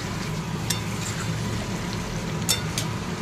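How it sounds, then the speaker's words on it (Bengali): Onion, liver and a large tomato fry with spices in a pan while being stirred, giving a steady, soft sizzle with a couple of brief clinks of the spoon against the pan. "আর একটু নাড়াচাড়া করি।"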